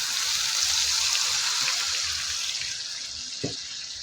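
A glass of water poured into a cooking pot while simmering a tomato-based sarsiado fish dish: a steady, close rushing pour lasting a few seconds, ending with a brief sharp splash.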